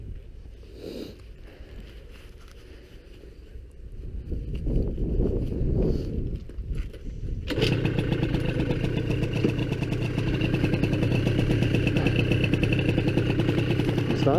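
Scooter engine, still cold, cranked with some clatter, then catching and settling into a steady buzzing idle that runs close and loud to the end.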